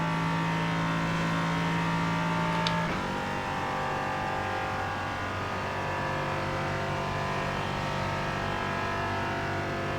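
An LMP3 prototype race car in the iRacing sim, engine held flat out at a steady high drone. The pitch drops briefly once at a shift and then carries on loud and constant, with no talking.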